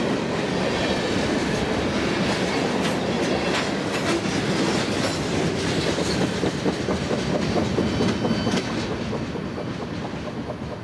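A southbound freight manifest train rolls past on the main line through a downtown area of Cambridge. Its wheels rumble and clatter loud and close, a steady roar that eases slightly toward the end.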